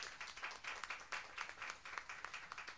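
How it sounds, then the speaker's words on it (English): Applause at a memorial satsang: a small group claps in a quick, fairly regular rhythm for the full few seconds, the claps bright and distinct rather than a dense roar. "let's give this group a lovely round of applause"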